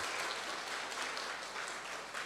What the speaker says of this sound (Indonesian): Silakan tepuk tangan untuk diri kita masing-masing.